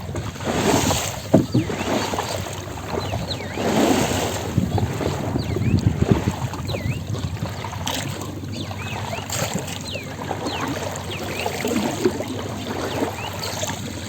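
A rowing boat crosses a river through a jungle, with water sloshing and rustling, wind buffeting the microphone, and faint voices in the background throughout.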